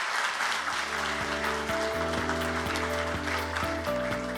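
Audience applause at a Korean economic forum, a dense wash of clapping from a seated crowd, steady and moderately loud over sustained musical chords.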